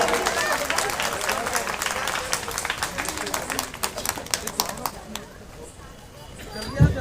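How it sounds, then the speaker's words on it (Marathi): Applause for child performers at a stage event, the clapping dense and steady for about five seconds, then thinning and fading, with a brief thump near the end. "या बाल कलाकारांसाठी एकदा जोरदार टाळ्यांचा गजर जाऊ द्या"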